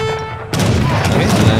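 Explosions and gunfire from the Age of Empires III video game burst in suddenly after a brief quiet stretch, forming a dense, loud, sustained barrage of booms and shots.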